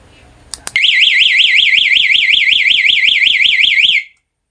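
A motorcycle two-way security alarm sounds as it is locked by remote. Two quick chirps lead into a loud, warbling electronic siren that rises and falls steadily for about three seconds, then cuts off abruptly.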